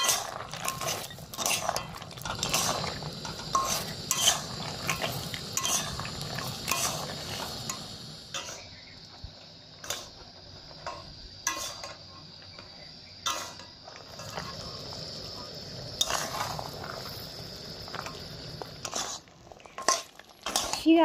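Fried rice-flour gaja being stirred into thick jaggery syrup in a pan makes repeated scraping, knocking utensil-on-metal sounds and sticky rustling, steady and close throughout with brief pauses.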